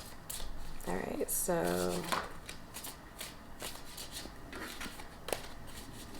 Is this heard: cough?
no